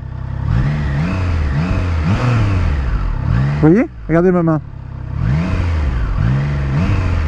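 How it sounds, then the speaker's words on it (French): Triumph Trident 660 motorcycle engine idling in neutral, then revving up sharply twice in quick rising bursts before settling back to idle, close and loud, with someone talking over it. "Vous entendez, le moteur, il monte juste après."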